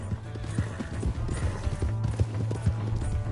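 Horse hooves clip-clop at a steady trot in Red Dead Redemption 2, a brisk, even rhythm of close, clear hoofbeats running throughout with faint mechanical clatter beneath.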